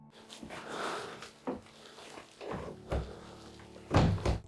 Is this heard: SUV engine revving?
no